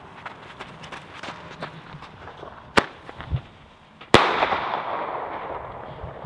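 Two sharp firework bangs from a Weco Flashing Thunder, loud and fairly close, the second followed by a lingering hiss and crackle as it dies away outdoors.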